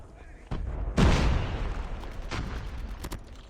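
A grenade explosion in Call of Duty Mobile lands as one loud, close blast with a rumbling tail, followed by fainter booms and a few sharp gunshot-like cracks.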